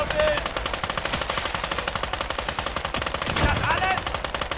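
Rapid machine-gun bursts rattle continuously through a World War II battle in the Gates of Hell: Ostfront game, set during the invasion of Poland, with dense overlapping gunfire and a louder close burst near the end.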